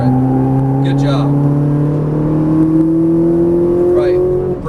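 Ferrari 458 Italia accelerating hard on a Las Vegas race track, the engine note climbing steadily in pitch as it pulls through the gear, close and loud, with an instructor's voice coming through over the engine.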